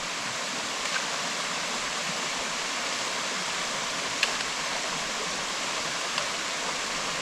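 Rushing water of Harpers Creek in the Wilson Creek Wilderness at a shallow crossing, a steady close hiss of flowing stream with a few faint splashes and no talk.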